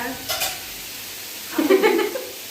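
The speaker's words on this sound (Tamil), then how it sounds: "வதங்கட்டும், கொஞ்சம் வதங்கட்டும்." Vegetables sautéing in a pan give a short close stirring scrape and a brief burst of sizzle, with quiet gaps in between.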